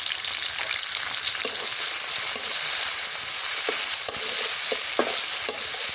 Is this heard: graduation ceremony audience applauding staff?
no